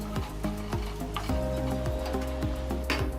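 Ginger garlic paste being stirred into onions frying on medium heat, with a steady sizzle and repeated scraping knocks of a spoon against the pan, close and alone without talk.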